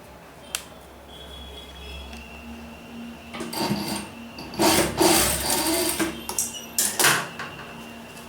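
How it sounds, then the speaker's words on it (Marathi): An electric sewing machine stitches fabric for a child's frock, running in short bursts and pauses that grow louder and denser toward the end, heard alone without talk. "तसंच आपण हा येथे दुसरा टाका मारून घ्यायचा आहे दोन्ही बाजूला आपण बंद करून टाकलेले आहे"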